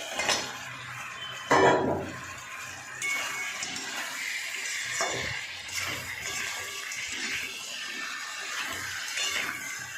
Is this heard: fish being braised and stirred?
yes